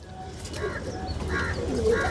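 Soft pigeon coos repeat several times at close range over a faint background hum, from a loft of teddy-type pigeons.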